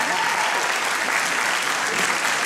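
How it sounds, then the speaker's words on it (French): Loud, close applause from an audience at a fashion show event, a thick continuous clatter of many hands clapping evenly throughout, with faint murmuring mixed in. "Je voudrais qu'on applaudisse Esmeralda."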